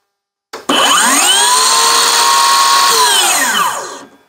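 A Ryobi 18V cordless power tool running on a 6Ah battery whirs steadily at full speed for about three seconds, pitch dipping slightly under load, then winds down; close and loud, no talking.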